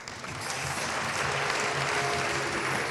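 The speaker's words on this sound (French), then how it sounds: "Je vous demande d'applaudir Muriel Bolto." An audience at the Elle Active 2014 conference debate at the CESE in France claps in steady, dense applause that swells and holds for the whole stretch.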